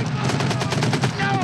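Gunfire in the 1987 war film Full Metal Jacket comes as a loud, dense burst of rapid repeated shots throughout, like automatic weapons fire, with no clear talk over it.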